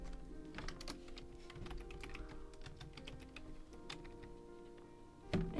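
Quiet, rapid clicking of a computer keyboard being typed on, irregular bursts of soft keystrokes close by in a calm indoor room, with no talking.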